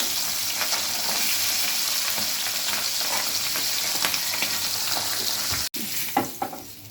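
Pabda fish sizzling steadily in hot oil in a pan, a dense continuous crackle throughout with a brief dropout near the end followed by a few sharper spits.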